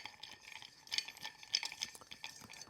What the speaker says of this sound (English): Give it a little stir in a mixing glass.